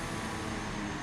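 Steady broadband roar of a Beechcraft 414-type aircraft crossing the runway path in Microsoft Flight Simulator 2020, a constant engine and air rush without a clear rise or fall, loud and unbroken.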